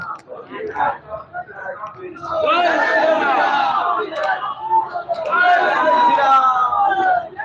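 A torch rally procession in Kalyani town marches toward the police station, a loud crowd chanting slogans in rising, rhythmic bursts, with a voice speaking over it at the start.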